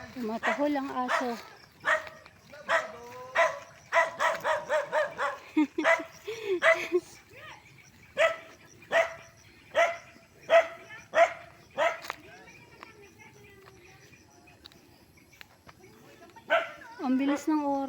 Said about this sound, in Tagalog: Tumatahol ang aso.